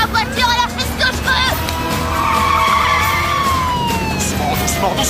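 Car tyres skidding and squealing under hard braking on a police drama, with long screeching tones sliding over engine noise and a faint siren-like wail, loud and close throughout.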